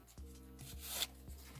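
Tarot cards being laid out on a table for a reading, with soft rubbing and sliding sounds and a few light taps as cards land, quiet and close under a low steady hum.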